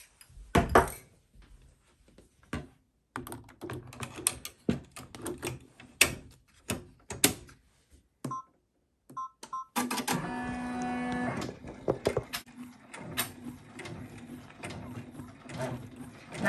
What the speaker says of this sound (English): now it's going to do the final stitch and tack everything all down together